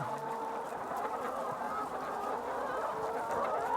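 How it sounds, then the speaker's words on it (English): A flock of chickens on a farm: continuous overlapping clucking and squawking chatter, dense and steady, with no voices. "I was desperate to meet these industrious chickens"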